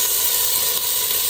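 Curry leaves and a dried chili hiss loudly in hot oil for rasam, a close, steady, unbroken sizzle with no voices over it.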